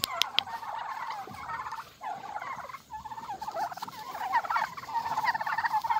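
Several turkeys gobble and warble in a busy, continuous chorus in a homestead barn, with scattered pattering and a few sharp clicks, fairly close.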